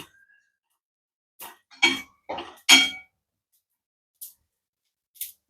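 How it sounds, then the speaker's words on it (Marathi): Garlic and cumin being dry-roasted and stirred in a pan for a homemade chutney: a handful of short, quiet scraping and clinking bursts spaced by silence, with a few louder stirs clustered in the middle. "लसूण पण चांगला भाजून घ्यायचा आहे"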